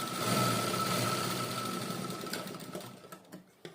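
A sewing machine runs steadily while stitching a size 42 blouse, a fast close whirring hum that slows and trails off into a few softer clicks at the end.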